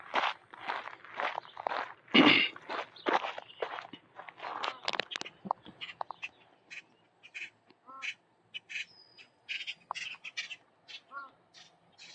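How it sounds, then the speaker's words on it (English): Scattered bird calls and quacks outdoors at a pond on a trail loop at Fort Macon State Park, North Carolina, some near and some farther off, mixed with footsteps and occasional voices. "Lots of birds using this area."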